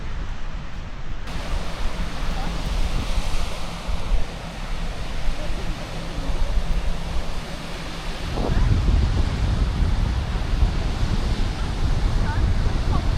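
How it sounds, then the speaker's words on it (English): Strong wind buffets the microphone while sea waves break along the shore at Sopot, a broad continuous roar that swells louder partway through, with no clear voices. "It is very windy."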